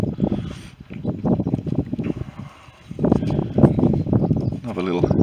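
Wind buffets the microphone on an exposed South Downs hillside in gusty low rumbling bursts, loud and close, while someone talks over it.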